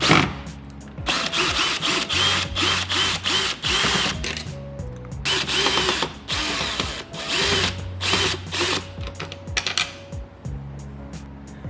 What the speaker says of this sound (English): in our case we're going to be using a power drill